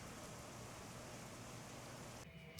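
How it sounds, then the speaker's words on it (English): Hail falls outside in a steady, faint patter of many small impacts, a continuous wash heard from indoors that briefly thins near the end. "And now it's hailing, so I can't even go outside to get a puppy."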